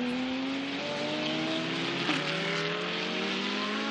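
A GT race car engine accelerates hard during Blancpain GT Series Asia qualifying at Shanghai, its pitch climbing steadily as it pulls out of a long loop of turns, with a brief tire chirp midway and no voices.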